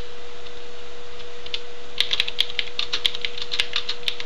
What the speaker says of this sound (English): Then I'm typing in the content.